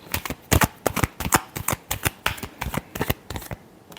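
Tarot cards shuffled by hand in a rapid series of crisp, close riffling snaps and slaps with an uneven rhythm, alone and without talk.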